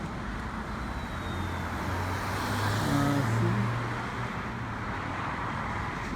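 Steady road traffic in Canada, cars and buses rolling past at an intersection, a continuous low engine rumble that swells briefly mid-way as a heavier vehicle passes nearby, with no talking.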